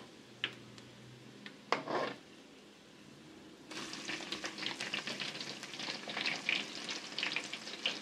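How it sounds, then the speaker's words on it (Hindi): Cumin seeds sizzling in hot oil with browning garlic for potato and spinach curry; quiet with a couple of clinks at first, then a steady soft crackling sizzle rising partway through and continuing to the end. "अब ये जीरा डालें इसमें, जीरा गोल्डन हो जाएगा"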